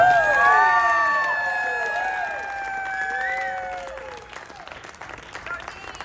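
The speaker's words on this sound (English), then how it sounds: "Please, a big round of applause to Dean Zelinsky." An audience at a Rock Godz Hall of Fame event bursts into loud, dense applause and cheering that slowly fades over several seconds, with bright feedback-like tones ringing over the crowd at the start.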